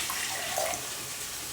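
Water poured into a mixer jar holding spice paste, a soft, brief splashing trickle, faint and close, with no voices.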